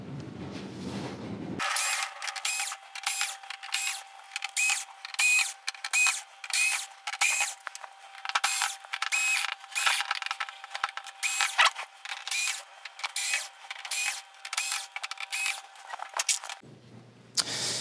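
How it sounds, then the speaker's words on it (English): Screws being backed out of the rear panel of a Sony KDL-46EX710 television, likely with a power screwdriver, as a regular series of close, short whirring bursts with brief gaps between them. "So what we're gonna do is just get these screws removed"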